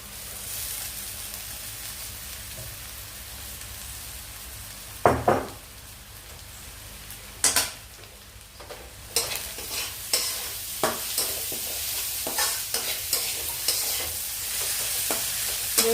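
Sliced onions sizzle in a hot pan, a constant frying hiss broken by the scrape and clink of a spoon stirring against the pan in a series of short knocks, close and clear with no talking.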